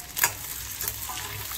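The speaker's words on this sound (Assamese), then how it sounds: "এতিয়া মই পিঁয়াজখিনি ভালদৰে লৰাই লৈ ভাজি লৈছোঁ।" Onions frying in hot oil while being stirred, with a steady close sizzle and a couple of brief scraping stirs, no voices.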